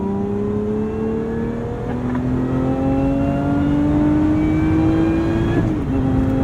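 Lotus Emira V6 with a manual gearbox, about 400 horsepower, accelerating hard: a loud, steady engine note climbs continuously in pitch through the whole stretch, with a brief dip near the end, and no talking.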